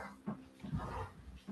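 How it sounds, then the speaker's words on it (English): Two household dogs growl in the background of a remote meeting, low rumbling bursts coming and going faintly behind the room. "we have two dogs and they're literally growling"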